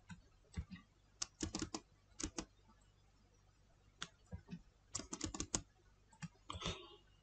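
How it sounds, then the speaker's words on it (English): Close, crisp clicking of computer keyboard keys in irregular clusters and single presses with short pauses between them, quiet and without speech. "Press shift key and hold and press number one on keyboard."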